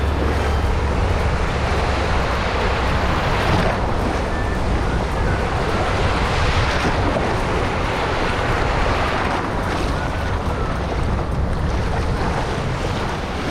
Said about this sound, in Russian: Смотрите, какие волны.